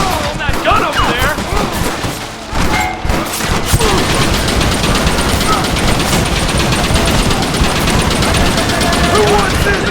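A mounted gun hammers out sustained rapid fire during a Red Dead Redemption battle, loud and close, with explosions and shouted voices mixed into the continuous barrage.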